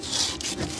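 A cloth briefly rubs the aluminium seal surface at the front end of a pickup truck bed: a short, close, dry scrubbing swish with a few quick strokes and no voices.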